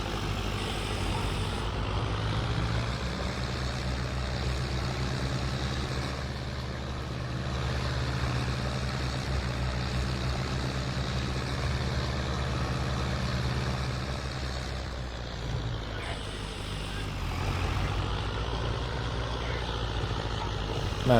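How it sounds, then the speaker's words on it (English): A farm tractor drives and mows across a field on an evening run, its engine a steady, close, continuous drone with a constant low rumble throughout and no talking. "Man, I love the maneuverability of this tractor."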